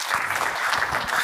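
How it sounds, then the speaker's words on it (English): Audience applause at a panel discussion on mobile eSports, a brief burst of dense, steady clapping from a crowd. "Give them a round of applause"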